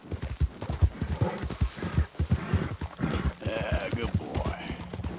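Horse hooves clip-clop at a steady gallop in the Red Dead Redemption 2 video game, loud and close, with an occasional whinny and a voice talking over the hoofbeats.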